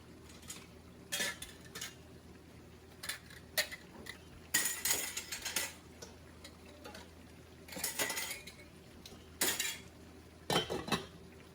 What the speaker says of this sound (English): Give it a good stir, and then we'll start scooping.